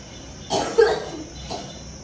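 A single close cough bursts out, followed a moment later by a shorter, softer second cough, with quiet room noise between.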